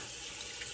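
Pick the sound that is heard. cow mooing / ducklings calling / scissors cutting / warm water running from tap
warm water running from tap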